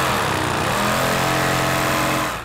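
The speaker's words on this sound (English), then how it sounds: "we then cut off the flashing, which is the rough cut stuff around the outside" A loud, steady high-pitched power tool whines continuously in a bespoke ski factory while it cuts the rough flashing off a cured ski block, close and unbroken, with no talk.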